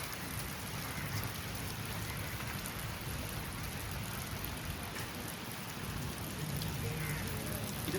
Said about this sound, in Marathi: आपल्याला मस्त पाऊस भेटलेला आहे